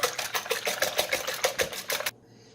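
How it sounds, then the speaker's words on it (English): Eggs are whisked briskly in a bowl for a frittata, a rapid rhythmic clatter of the whisk striking the sides that stops abruptly after about two seconds. "I'll proceed to whisk our eggs."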